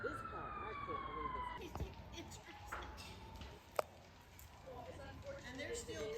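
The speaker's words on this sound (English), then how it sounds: "The sirens are still coming." Emergency vehicle sirens wail and sweep down in pitch as they approach a Christmas Day house fire, rising over background crowd noise, with voices in the mix and a sharp sudden bang midway.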